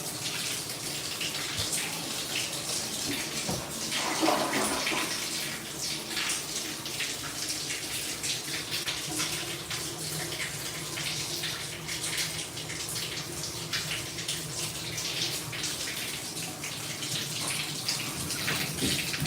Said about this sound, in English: Check our functional flow test. Get a few of all of our sinks going.